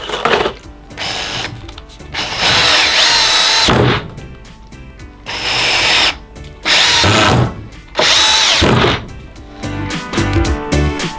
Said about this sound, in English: we'll try out some 10 gauge chipboard screws and see how they go into the hardwood